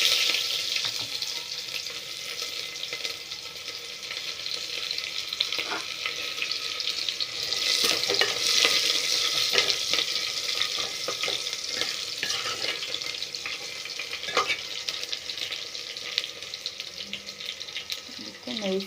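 Curry leaves and onion frying in oil in a Karnataka home kitchen, a steady broad sizzle with occasional stirring clinks, some running-water-like hiss, and no talk.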